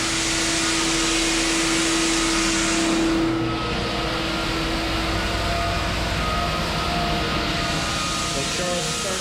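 An edger sanding an old hardwood floor during refinishing, a loud steady machine roar with a strong tonal hum that holds almost unbroken throughout, dipping briefly partway through.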